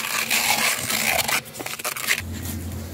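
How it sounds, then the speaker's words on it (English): A bathtub plug is scuffed up by hand, giving rough intermittent scraping strokes, a busy stretch of rasping followed by a steadier low hum. "Need to scuff up this plug."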